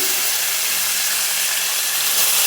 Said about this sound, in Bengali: তাতে আমি মাছগুলো ছেড়ে দিচ্ছি